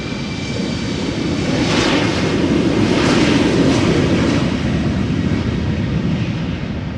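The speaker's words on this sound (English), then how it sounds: "So this is KLM flight 1779, Embraer 190 going to Hamburg" A KLM Embraer 190 jet roars steadily at Amsterdam Schiphol Airport, its engine noise swelling to a loud broad rumble and whine mid-clip, then holding strong with some wind buffeting.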